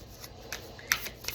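Oracle card decks being shuffled produce a brief run of soft papery riffles and flicks, close and quiet, with a few sharper card snaps near the end.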